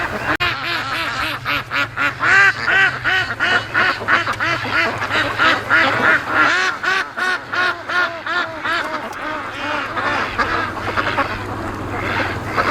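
A flock of free-range ducks quacks nonstop on a lake, overlapping nasal calls in rapid, uneven runs, close and loud, with brief gaps as the chorus rises and falls.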